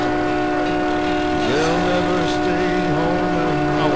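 A clunky hillbilly vehicle in GTA San Andreas runs with a droning engine tone that rises and wavers in pitch, heard up close under faint background noise.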